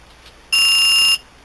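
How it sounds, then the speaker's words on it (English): A radio transmitter gives a single steady high-pitched electronic beep, loud and close, holding for about half a second before cutting off cleanly against faint background hiss. "once the radio beeps, it'll start"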